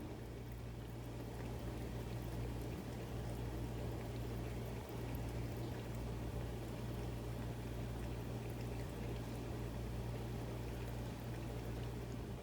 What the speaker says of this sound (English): He absolutely loves this water fountain.